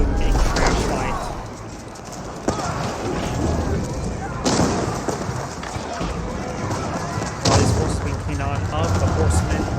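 Arbaletiers fire crossbow volleys during a large Age of Empires 4 battle between French and Holy Roman Empire armies, with horsemen charging. The clash is a dense, continuous din of impacts, hooves and combat noise, with commentary running over it throughout.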